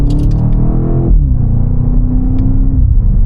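Audi RSQ8 SUV pulling in second gear in Sport Plus mode, a loud deep engine rumble that climbs in pitch, drops at a shift and then holds a steady drone.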